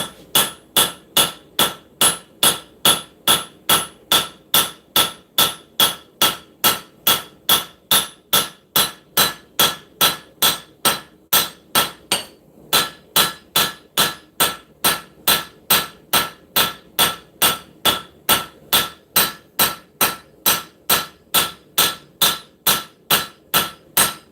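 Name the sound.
hammer forging bevels on hot steel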